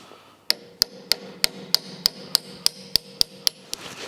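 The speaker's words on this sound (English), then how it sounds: "and that was of course the wrong hammer." A hammer strikes a front suspension part of a Formula Konick race car, driving it into place with about a dozen sharp, evenly paced metallic blows that ring briefly, close and loud in a quiet workshop.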